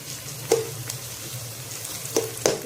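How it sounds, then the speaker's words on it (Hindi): About two tablespoons of chopped garlic frying in a pan for bhindi masala: a soft, steady sizzle broken by a few sharp clicks of stirring, with no one speaking. "इसमें डालूंगी मैं लहसुन, चॉप किया मेरे पास लहसुन है, तकरीबन 2 बड़े चम्मच। इसी में इसको मैंने भून लेना"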